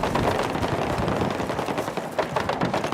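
Enemy machine guns in Battlefield 6 fire continuous rapid bursts, loud and close, with rattling automatic fire and heavy impacts blending into a dense battle roar.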